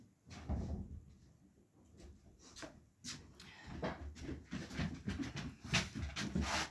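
A house door is opened in the morning to let a large dog in: wooden knocks, rubbing and creaks of the door and handle come in irregular bursts, fairly close and quiet, with faint movement between.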